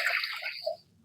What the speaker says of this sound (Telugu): ఈ నీళ్ళన్నీ వంపేసి